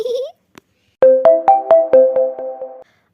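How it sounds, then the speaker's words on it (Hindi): A phone ringtone for an incoming call plays loud and close, a rising tone followed by a rhythmic run of bright electronic beeps, with no talk. "आप इसी वक्त मुझे कौन कॉल कर रहा है?"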